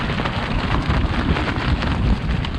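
Heavy wind buffets a poncho flapping like a sail on an exposed hillside during a rainy Yorkshire Three Peaks hike, a loud, continuous roaring rush with dense low-end microphone buffeting throughout.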